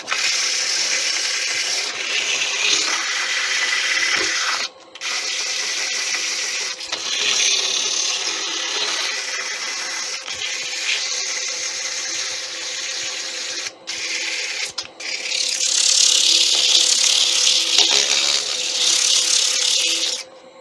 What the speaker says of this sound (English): now don't forget to sand inside as well